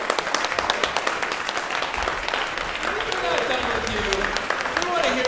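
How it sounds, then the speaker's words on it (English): A concert audience at a medical musical group show applauds with dense, lively clapping, while a voice speaks over the later part of the applause. "Let's see if we can clap Dan back onto the stage."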